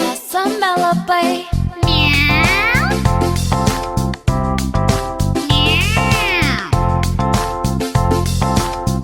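Sung children's song in Lithuanian about two little cats, with a voice imitating a cat's drawn-out meows between sung lines over a loud, steady musical backing.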